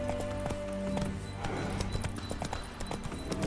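A horse's hooves clip-clop at a quick gallop in The Witcher 3, a steady close rhythmic drumming over a low ambient game background.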